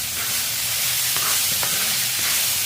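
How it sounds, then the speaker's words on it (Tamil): Garlic sautéing over medium heat in an iron kadai makes a loud, continuous sizzling hiss, with a few faint scrapes of a stirring spoon against the metal. "இப்போ பூண்டை வந்து நல்லா வதக்கிக்கிட்டு இருக்கோம்"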